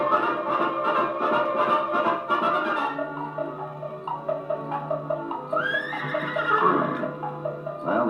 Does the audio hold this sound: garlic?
no